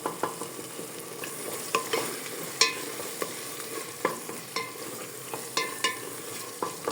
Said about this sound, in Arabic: صافي كنبقاو نشحروه حتى كينشف من الماء وكنقدموه